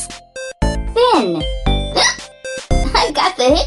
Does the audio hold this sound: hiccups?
yes